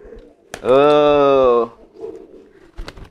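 A giring racing pigeon gives one loud, drawn-out coo of about a second, sitting close to the listener among quieter rustles and faint bird sounds.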